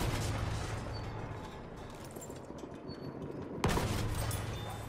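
Gunfire in the Battlefield 1 game, a dense stretch of rumbling battle noise with shots and blasts mixed into a continuous wash, and one sharper report near the end.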